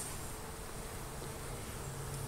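Honey bees buzz around a hive box during a hive removal, holding a faint, steady, low drone with no talking over it.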